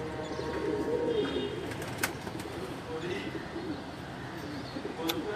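Red-eyed pigeons coo softly at a loft, low throaty calls over background murmur, with a few sharp clicks and faint chirps.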